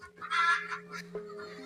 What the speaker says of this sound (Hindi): ये मुर्गियाँ हमने माशाल्लाह खोल दी हैं आज तकरीबन कोई 10:30 बजे